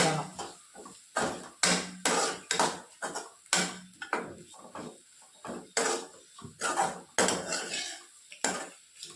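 A utensil scrapes and clanks steadily against a cooking pan as a thick, spicy masala is stirred, in a rhythm of sharp strokes roughly every half second, close and clear with no talking.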